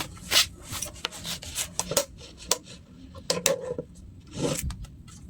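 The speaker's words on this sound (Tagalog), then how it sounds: "I-try natin, guys, ikat itong picture para pantay." A cutter trims the edges of a printed picture in a small printing and laminating setup, heard as a run of short, close scraping and slicing strokes in an irregular rhythm, with no talk.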